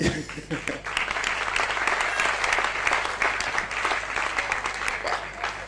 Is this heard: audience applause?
yes